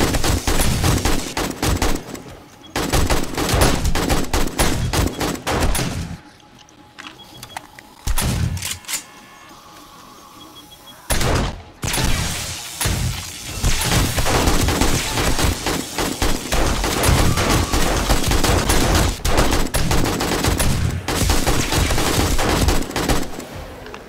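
Rapid automatic gunfire from the player's own turret in 7 Days to Die, loud and sustained in long bursts with a few brief pauses, no talking.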